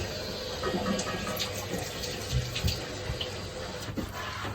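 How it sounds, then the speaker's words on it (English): Water splashes and trickles into a container in short, uneven bursts, fairly close and moderately quiet. "I'm just going to put a little bit of water in it."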